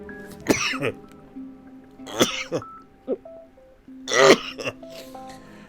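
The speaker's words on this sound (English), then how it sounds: "Laugh at my sneeze if you like." A single sharp sneeze burst stands out among other short vocal noises, close and fairly loud, with brief quiet gaps between them.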